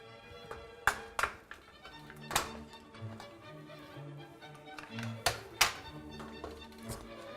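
A screwdriver pries at an old plastic dishwasher rack adjuster, giving several sharp irregular taps, clicks and thunks close by against a faint hum.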